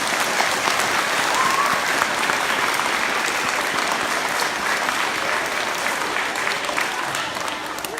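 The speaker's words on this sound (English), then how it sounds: "Let's give them a big round of applause." Audience applause fills a school grand opening, a dense, steady wash of many hands clapping at even loudness from start to finish, with no voices over it.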